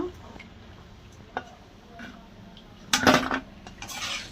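Fried masala vadas are lifted out onto a plate, sparse clinks and scrapes of a utensil against metal, with a louder clatter near the end, close by and quiet in between.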